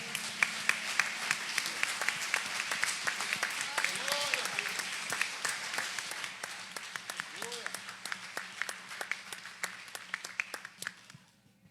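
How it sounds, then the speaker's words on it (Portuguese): Crowd applause at a church service, with dense, steady clapping that fades gradually toward the end, with a voice occasionally heard over it. "Aplauda o Senhor mais uma vez"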